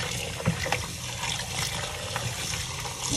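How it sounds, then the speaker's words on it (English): Water is poured steadily into a pot of goat meat being washed for Jamaican curry goat, giving a continuous splashing trickle close up with no talking. "Let's get some more water in that."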